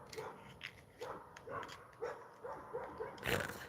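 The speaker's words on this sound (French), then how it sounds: "il y a les voitures qui passent là, ils sont en train d'aboyer" Dogs barking and yipping at cars passing outside a home, several short, fairly faint barks spread across a few seconds against a muffled background.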